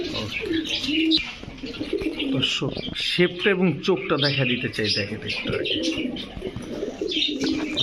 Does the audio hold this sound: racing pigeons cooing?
yes